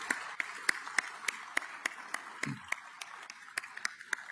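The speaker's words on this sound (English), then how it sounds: "So a round of applause for all the men and women of STRATCOM." Sparse applause for STRATCOM personnel at a military change of command ceremony: a modest, fairly steady round of clapping in a large room, individual claps distinct, with a brief low murmur in the middle.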